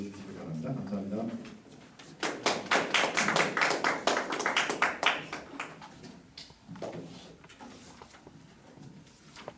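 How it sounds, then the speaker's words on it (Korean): An audience at a forum on the Reformation and Jubilee welcomes a speaker with a burst of clapping that swells quickly, holds for a few seconds and tapers off, preceded by a speaking voice and followed by quieter room sounds. "우리 김유준 목사님께서 종교개혁과 희년 관련된 사상에 대해서 말씀해 주실 때 큰 박수로 맞이해 주시기 바랍니다"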